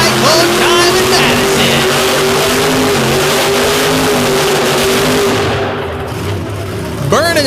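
Demolition derby car War Wizard, driven by RJ Turner at the Madison show, revs loudly with a steady, roaring engine drone, easing slightly before another rev, while an announcer talks over the arena noise.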